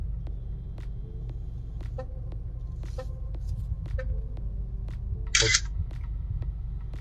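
A 70Mai Omni 360 dash camera takes a selfie on voice command, giving a crisp shutter-like burst and a scattering of soft clicks and beeps over a low car rumble.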